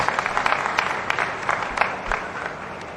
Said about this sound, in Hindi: मैं एक बार चाहूंगी कि एक बार उनके लिए तालियां जरूर लगा दो